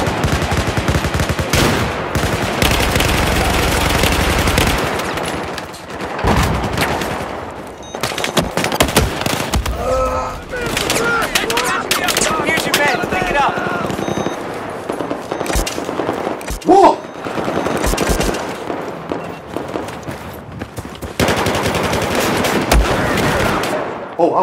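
Battlefield 4 Rush match gunfire: sustained machine-gun bursts and single loud shots in repeated volleys with brief lulls, close and heavy throughout, with voices speaking over the combat.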